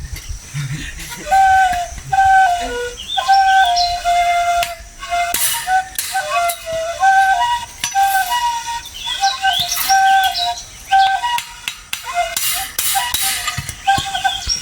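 Birds chirp and whistle continuously on a homestead while a bamboo flute plays a flowing melody, both clear and close.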